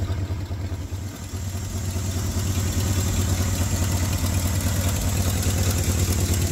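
An old Ford farm truck engine idles steadily with a pronounced exhaust leak, a loud close rhythmic chuffing and ticking pulse over a low drone.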